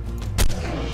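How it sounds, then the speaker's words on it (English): A single loud shotgun blast fired in the video game ARK: Survival, a sharp close boom that stands alone. "Let's see what a shotgun shell to the face can do for this thing"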